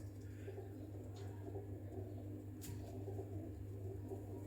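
A pigeon of the MeraDona breed coos softly in a low, repeated, throaty murmur, close by with quiet background hum.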